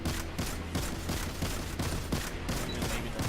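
Rapid gunfire aimed at wizards in the video game Destiny 2, during a Prestige Nightfall mission, sounds as a dense continuous barrage of shots. It stays loud and steady throughout, with no speech.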